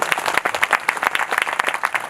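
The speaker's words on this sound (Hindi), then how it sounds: "तालियां" An audience at an Arya Samaj temple Ram Navami festival in Agra claps steadily for a couple of seconds, a dense, close, evenly sustained round of applause with no talking over it.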